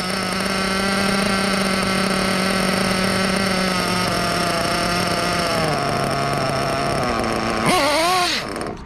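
A small nitro model engine running on Worlds Blend V2 fuel holds a loud, steady, buzzy idle, then its pitch wavers and drops as the idle sags too low, ending in a brief blip, close and alone.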